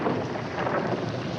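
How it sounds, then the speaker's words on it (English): Thunderstorm with steady heavy rain and rolling thunder, a dense broadband rumble that stays loud and even throughout with no voices. "Oh, it looks like we're in for a real storm."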